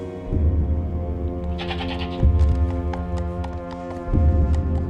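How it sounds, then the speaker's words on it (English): A goat bleats in long, wavering cries that swell and fade, repeated about three times close by over a steady low background hum. "It's a goat."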